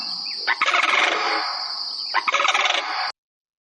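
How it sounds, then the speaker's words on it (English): A recorded sandhill crane call played back: two loud, rolling bursts of rattling, trumpeting bird calls with a sustained high tone, the second burst following after a short pause, then silence. "you might hear bird calls like the sandhill crane,"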